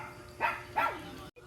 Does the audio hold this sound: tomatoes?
no